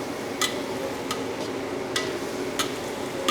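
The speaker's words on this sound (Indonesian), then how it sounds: "Kita oseng-oseng biar sayurannya semuanya wangi bercampur sama minyak bawang putih yang udah kita goreng di awal tadi." Cauliflower, corn and carrots being stir-fried in garlic oil: a soft steady sizzle with a few sharp spatula clicks against the pan at irregular intervals, close up and with no talking.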